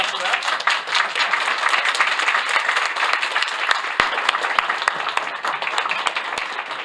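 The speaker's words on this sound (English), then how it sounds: "You can clap for that." Applause for the healthcare workers of Elmhurst Hospital in Queens rolls on steadily throughout, a dense patter of many hands with a few sharper individual claps, likely with voices mixed underneath.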